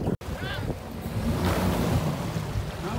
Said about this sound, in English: Well, we're out on the river here.